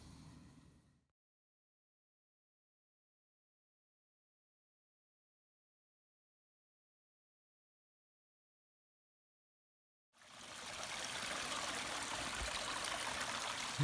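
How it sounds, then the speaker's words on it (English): A little creek runs down a gully in Lamington National Park, a steady trickling rush heard briefly at the start and again after a long silence, fairly close and even. "a little creek running down the gully"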